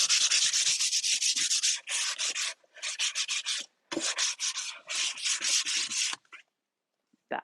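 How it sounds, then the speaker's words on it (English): Hand sanding of painted cabinet wood with folded 220-grit sandpaper, a close rhythmic scratching in bursts of quick strokes with short pauses, then quiet. "So just with your 220, I like to just fold my sandpaper."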